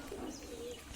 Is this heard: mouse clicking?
no